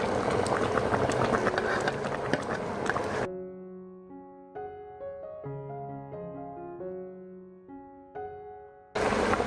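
Stinging catfish curry gravy bubbles in a pot with a dense, loud, churning boil at the start, gives way to gentle melodic music, then the boiling returns briefly at the end.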